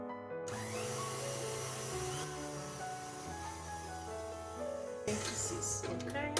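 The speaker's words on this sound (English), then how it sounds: "Now we can start the mixer." Electric mixer whirring through cake batter in a bowl for an anthill cake, a steady mid-level motor hum running throughout, with a brief louder rattle near the end.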